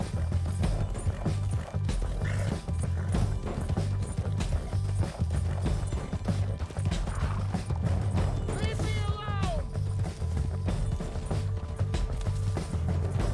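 Galloping horse hooves in the western game Red Dead Redemption 2, a continuous fast drumming of hoofbeats under dense game ambience, with a whistle-like call partway through.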